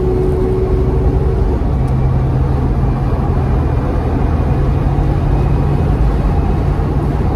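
A Range Rover Classic engine drones loudly and steadily at close range, its low pitch shifting slightly early on as the throttle is opened.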